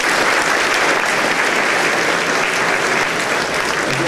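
An audience applauds loudly and steadily, a dense wash of many hands clapping close by that holds at full strength for the whole stretch with no voices standing out.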